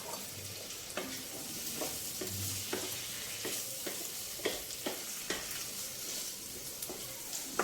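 Eggplant pieces tumble into onions frying in a pan, setting off a steady sizzle broken by repeated scraping and stirring clicks from a spatula, close and clear with no talk.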